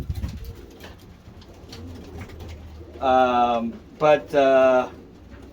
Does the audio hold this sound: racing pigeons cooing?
yes